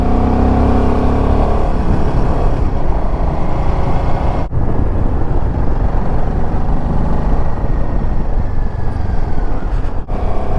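A Royal Enfield Himalayan 450 motorcycle rides a high-altitude mountain road in Spiti, its steady engine drone and wind rush continuous and loud, with two brief sharp knocks along the way.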